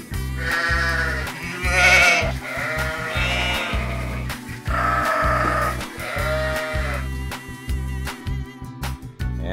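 Sheep bleating repeatedly in long, wavering calls over a steady low rhythmic background beat, loud and close throughout.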